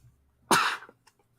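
A single sharp sneeze-like burst from a person, close and loud, rising suddenly then fading over a fraction of a second, with a short faint follow-up sound after it and near silence around it.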